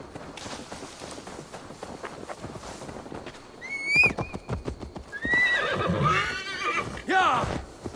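Horse neighing and hooves clopping in Assassin's Creed Valhalla: a busy mix of game noise gives way to a sharp, high whinny, followed by a second stretch of loud neighing over rhythmic hoof clops.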